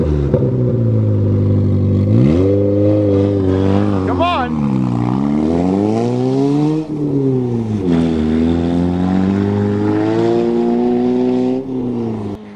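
Toyota GTS and Honda cars racing, engines revving up and down in repeated rising and falling sweeps, loud and close, with a voice calling out briefly over the engines.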